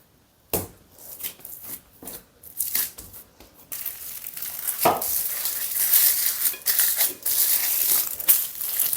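Close crinkling and rustling of a plastic bag, starting in sharp bursts and turning into continuous crackly handling.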